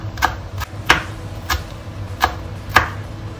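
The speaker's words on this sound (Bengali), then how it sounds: "চারটা কাঁচামরিচ একটু কুচি করে নেব" A knife chops green chilies on a board, five or six sharp separate taps at an uneven pace, close and clear over a low hum.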